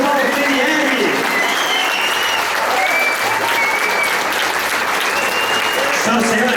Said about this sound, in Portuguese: Senhoras e senhores, uma salva de palmas para a gente de Thiago Paltrinieri